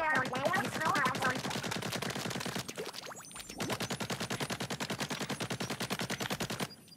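Rapid automatic shooting in Splatoon 3, a fast steady stream of evenly spaced shots running almost nonstop, briefly pausing midway before resuming just as regular, with splashy game effects at the start.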